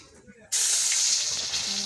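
Panch phoron, bay leaf and four or five dry red chillies hit hot oil as tempering for a fish-head mixed vegetable dish. A loud, steady sizzling hiss bursts in suddenly after a quiet moment and carries on strongly to the end.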